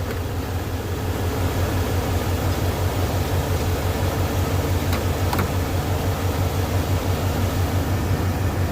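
A 1981 Ford Mustang engine idles at about 1,800 RPM during carburetor diagnosis, a close, steady low rumble with a constant rough drone and no change in pace.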